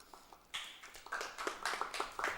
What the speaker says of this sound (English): Clap for myself.